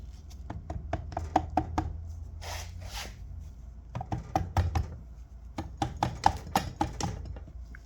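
A Kawasaki KX100 dirt bike engine, clutch side, being tapped with a tool: a rapid series of sharp, close metallic taps in irregular bursts, with brief pauses and soft shuffling between them.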